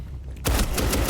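After a brief quiet moment, Twitch's drum-magazine gun in a video game opens up in a loud, rapid burst of close automatic gunfire.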